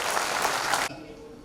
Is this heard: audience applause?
yes